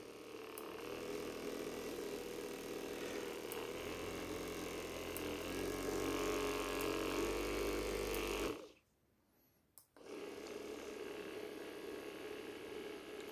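A KH-320 percussion massage gun runs with a steady, dense mechanical buzz, cuts out for about a second, then starts up again at the same even drone.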